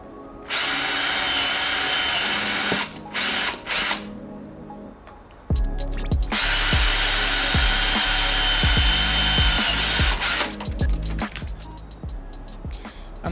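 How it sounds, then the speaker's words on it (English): A power drill whines loudly in two long bursts while boring a pilot hole for a motorcycle show plate on a Royal Enfield Classic 350, with short pauses, clicks and handling knocks between runs. "this will enable you to drill an initial pilot hole before moving on to the larger bit"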